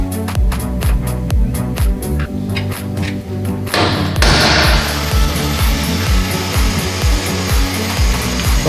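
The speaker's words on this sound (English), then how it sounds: "then we can roughly cut out the outer rocker" A power tool roughly cuts out the outer rocker panel on a BMW E30 M3, rhythmic pulsing thumps giving way to a louder continuous grinding cut, close and loud throughout.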